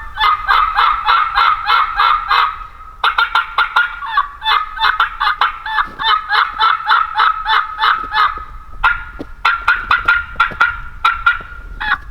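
Turkey mouth call worked to imitate an excited hen, rapid yelping runs broken by sharp cutting clucks, loud and close in repeated bursts, with chickens outdoors in the background.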